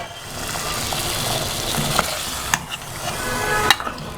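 Green chicken karahi stirred and fried in a pot, a constant sizzle with sharp scraping clinks of the spoon against metal, close and busy throughout.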